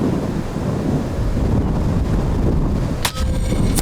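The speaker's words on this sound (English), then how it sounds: "Now the wind's really picking up on me." Strong wind buffets the microphone outdoors at an airgun shooting range, a loud, continuous low rumble with gusty swells and a brief metallic clang near the end.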